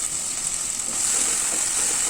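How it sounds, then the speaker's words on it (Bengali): Tomatoes frying in mustard oil with fried prawns in a kadai, a steady, moderate sizzle and hiss with faint stirring, no voices. "টমেটোগুলোকে বেশ ভালো করে নাড়াচাড়া করে নিতে হবে।"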